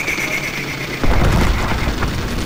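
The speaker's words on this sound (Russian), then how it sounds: "Попадание из зенитки! Левый двигатель!" Anti-aircraft flak strikes a plane in Call of Duty WWII: an abrupt, loud burst of explosive impact noise about a second in, then sustained rumbling battle din with crackling hits, following quieter engine drone.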